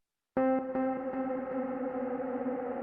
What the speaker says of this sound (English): so you can hear the pitch of the reverb changing